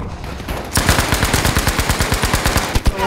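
Rapid automatic gunfire in the video game Battlefield V rattles in a fast steady burst, loud and close, following a brief moment of quieter background.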